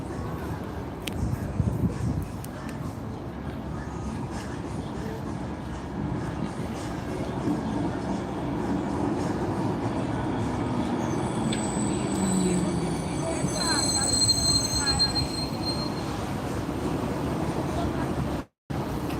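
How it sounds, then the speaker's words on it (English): A Hudson-Bergen Light Rail train pulls in at 8th Street station, a steady low rumble of wheels and motors building up close by, with faint high squeals or chimes partway through and people talking quietly nearby. "That's an 8th Street train."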